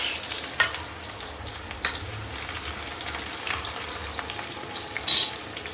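Onions frying in a pan on an induction cooktop give a continuous close sizzle with a few stirring scrapes and one brief sharp clatter near the end, and no voices.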